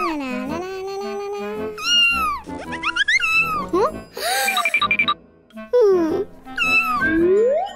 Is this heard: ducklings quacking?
no